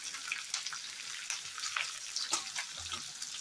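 Chopped chili hits hot oil with roasted garlic and ginger over a high flame, giving a steady bright sizzle with small crackles, fairly quiet and with no talk.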